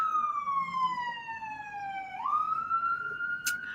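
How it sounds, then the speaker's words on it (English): A siren wails steadily, its pitch dropping then rising again as it passes by, fairly loud against a low city background hum. "There are sirens going by."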